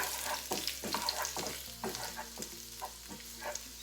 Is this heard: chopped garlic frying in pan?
yes